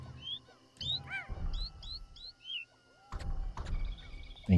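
Birds call in the video game Doshin the Giant, a run of short, bright, upward-swooping chirps repeated in quick clusters with brief pauses between them, fairly close and clear over a low background rumble.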